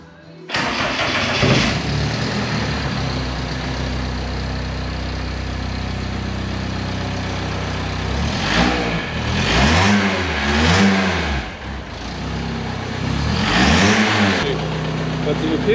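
A car engine with a slight leak underneath cranks and catches, idles steadily, then revs up in several rising and falling bursts near the end. Voices can be heard faintly now and then.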